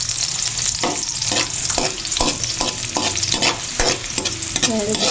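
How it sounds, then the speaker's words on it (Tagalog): Onions fry in hot oil with a steady loud sizzle while a utensil stirs and scrapes the pan in repeated strokes, close and busy throughout. "mainit na po yung ating mantika. Yan, lagay na po yung sibuyas."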